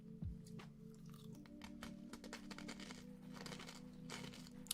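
Crunchy chips chewed close up in an ASMR recording: soft, continuous crackling mastication with crinkly bite textures, quiet and steady with no talk.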